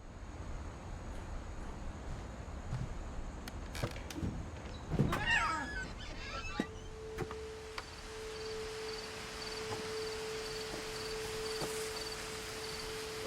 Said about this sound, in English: that was a cat, right?